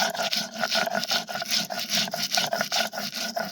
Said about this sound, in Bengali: মশলাটা দেখো, একটু জল দিয়ে নিলাম, এবার বেটে নেব